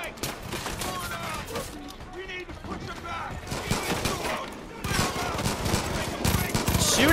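Gunfire in the Far Cry 5 game crackles in rapid bursts, some close and sharp, alongside a player's shouting and grunting.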